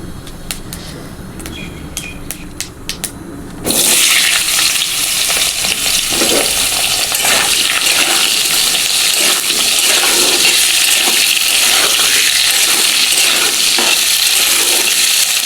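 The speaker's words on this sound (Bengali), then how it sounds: "এবার আলুগুলো একটু লাল লাল করে ভেজে নেব" Cut potatoes drop into a hot pan and sizzle loudly and steadily, a continuous close frying hiss that begins abruptly after a few seconds of quieter kitchen noise.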